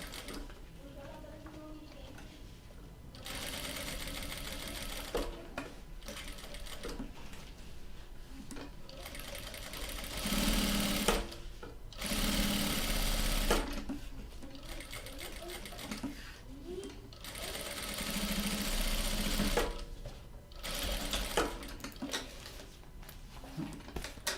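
Sewing machine stitching along the sides of a men's bag, running in several steady bursts of rapid ticking with short pauses between them, close and clear, with a voice talking in the background.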